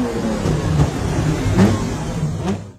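A Ferrari racing car engine revs hard at the start of the Mille Miglia, a loud, close, sustained roar that swells and eases over a few seconds with no voices.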